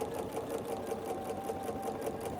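A sewing machine runs steadily while stitching a seam across a quilt block for a scrappy sampler quilt, its fast even whirring buzz continuing unbroken at close range with no talking.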